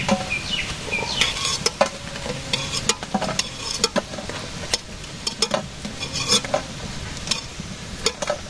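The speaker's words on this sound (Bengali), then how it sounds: "আলু কটা ভেজে নিলাম।" Potatoes fry in a pan in a village kitchen, with a crackling sizzle broken by repeated stirring scrapes and clinks from a utensil, close and moderately loud, with no speech.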